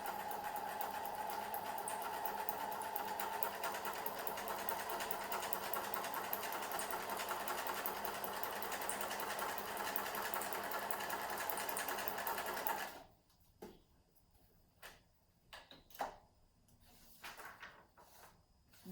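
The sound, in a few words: sewing machine stitching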